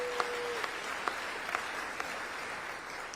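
A crowd at an event with Governor Hochul on child care in the Rochester area applauds, a steady hiss of clapping with a few sharper claps and light knocks standing out.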